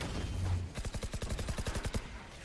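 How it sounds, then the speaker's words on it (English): Rapid Ghost pistol shots in Valorant, fired through a smoke cloud during a match: about a dozen crisp, evenly spaced cracks in quick succession, close and moderately loud. "Now some shots through the smoke with the Ghost"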